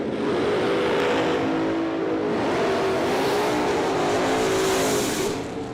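Top dragsters, driven by Corey Adams and Logan Back in a bracket race pair, roar down the drag strip at a 20K event. Their engines make a loud, sustained, rumbling drone with a shifting pitch that holds for the whole stretch.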